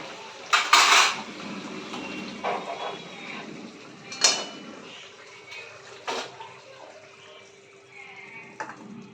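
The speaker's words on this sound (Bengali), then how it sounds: "এবার আমি বাটিতে ঢেলে দেব।" Prawn malaikari is served from a cooking pot into a bowl, with a few loud clanks and scrapes of ladle against metal spaced over several seconds, close by and otherwise fairly quiet.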